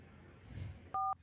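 Two short electronic telephone dialing tones beep in the game Sub Rosa after a soft rustle, clear and evenly pitched.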